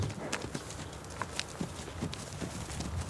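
Camargue horse hooves clip-clop on the ground in a steady walking rhythm, fairly close, with no speech over them.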